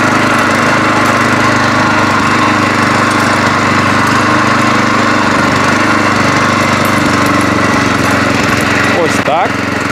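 A Loncin LC-1200 walk-behind tractor's engine runs steadily and loud at close range as the machine sets off, with a constant mechanical drone throughout and a brief clatter near the end.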